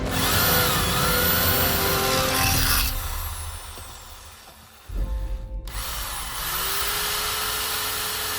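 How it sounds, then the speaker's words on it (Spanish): A 750-watt electric drill runs outdoors, loud and close, with a steady motor whine that winds down and stops, then starts again and holds a strong even buzz. "Podemos observar que este taladro de 750 vatios también funciona sin problemas."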